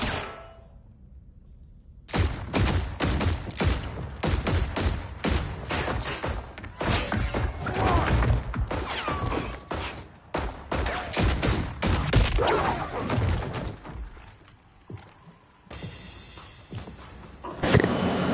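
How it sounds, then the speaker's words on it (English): Rapid bursts of gunfire in Mortal Kombat 11, loud and dense, repeating in fast clustered volleys for many seconds after a brief quiet start. "I doubt those guns can shoot that many rounds."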